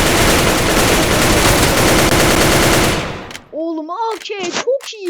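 Rapid pistol gunfire from a P250 in a video game pours out as a loud, unbroken three-second barrage, then cuts off abruptly and a voice starts speaking.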